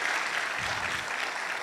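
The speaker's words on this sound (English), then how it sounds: "another round of applause for" An audience at a university business school's Management Day celebration claps in a dense, steady burst of applause that holds level throughout, with no voices.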